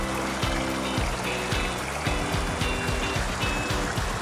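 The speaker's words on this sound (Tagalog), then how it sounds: "It's a mini falls guys, it's called Toto." Water from Toto mini falls, a small waterfall, splashes and trickles steadily close by, with repeated low knocking or bumping sounds mixed into the continuous flow.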